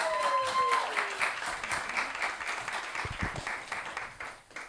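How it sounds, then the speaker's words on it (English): A crowd applauding steadily, dense clapping filling the whole stretch, with a bit of cheering and voices mixed in. "Give them a round of applause."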